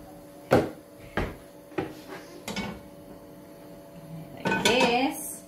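A metal pan is handled on the stove while oil heats for Filipino chicken soup, giving four or five sharp clanks and knocks at a steady pace, then a busier clatter near the end, with some talk.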